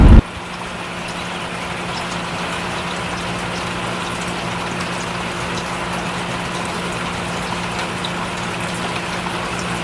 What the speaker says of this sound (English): watch the rain coming down and the beautiful apple blossoms and listen to the rain as well